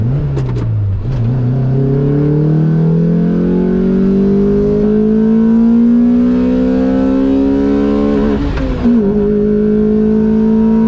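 A loud Lotus Exige S2 engine revs up and holds a rising, sustained roar for several seconds, then blips sharply near the end.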